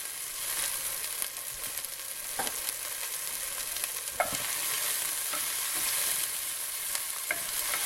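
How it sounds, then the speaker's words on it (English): Onions sweating in hot olive oil in a cast iron pan, an even, close hiss of sizzling with occasional stirring scrapes and taps, no voices. "Immediately put in the onions. Saute those up until they're sweated a little bit."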